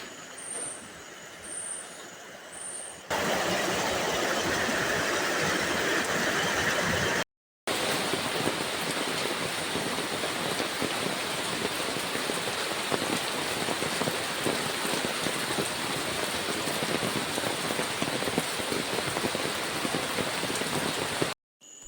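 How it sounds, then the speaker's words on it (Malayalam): Heavy afternoon rain pours down in Puthuppally, Kottayam district, as a steady, loud, dense hiss. It follows a few quieter seconds, breaks off briefly, then continues unbroken with no voices. "കോട്ടയം ജില്ലയിൽ അതിശക്തമായിട്ടുള്ള മഴയാണ് ഉച്ച കഴിഞ്ഞ് പെയ്യുന്നത്. ഇടിയും വെട്ടിയാണ് മഴ പെയ്യുന്നത്."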